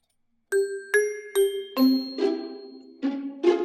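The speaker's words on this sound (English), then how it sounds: "So introduce the glockenspiel" A sampled orchestral glockenspiel from a chimes library plays a short run of bright, ringing metallic notes, each struck cleanly and decaying slowly, about eight strikes in quick succession after a brief silence.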